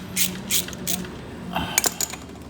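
A ratchet fitted with a 10 mm socket works loose a start solenoid on a Venom Motorsports bike, giving short bursts of crisp clicking ratchet strokes with small metallic taps, close and in irregular groups.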